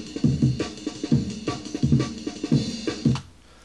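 An unedited drum break sample loops in FL Studio's Fruity Slicer, with punchy kicks, snares and ride cymbal in a quick, steady breakbeat pattern that repeats about three times, clean and alone.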